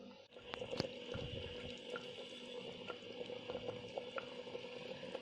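Hot water is poured into a pot of freekeh and meat frying together for soup, producing a soft close bubbling and sizzling with small pops and gurgles at a low, steady level.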